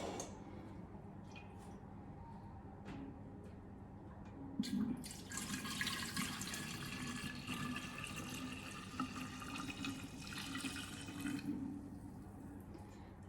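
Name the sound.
pouring liquid into a 5-liter jug with a SCOBY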